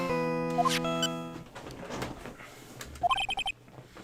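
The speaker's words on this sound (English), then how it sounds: "What kind of ringtone is that? You like jazz?" Jazz-style phone ringtone in Ace Attorney: Trials and Tribulations, a few sustained melodic notes followed by a quick run of bright chiming beeps, fairly loud over faint background music.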